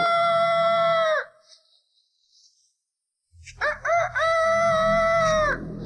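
A rooster crows in a Hong Kong film scene, two loud, close cock-a-doodle-doo calls separated by a brief silence, the second followed by low rumbling background noise.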